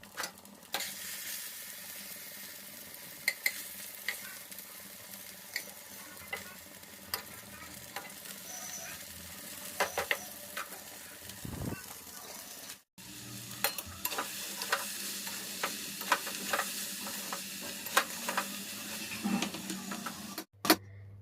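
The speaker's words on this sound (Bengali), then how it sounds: "এই গ্যাসে বেগুনটাকে ভাজবো" Eggplant frying in oil on a gas stove: a steady low sizzle throughout with scattered soft clicks and scrapes, quiet and close, broken by a couple of brief dropouts.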